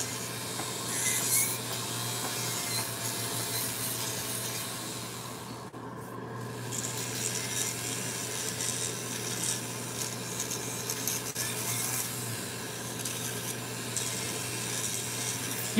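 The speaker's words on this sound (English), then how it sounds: "now I'm using this safety bit and grind on customer around the cuticle" A steady, high-pitched electric nail drill whine with a safety bit filing around a cuticle, running continuously with slight variations in pitch, close up, with no talking.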